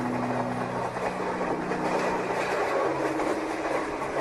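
A train runs steadily along the rails with a continuous rumbling roar and faint wheel clatter, loud and close throughout with no voices.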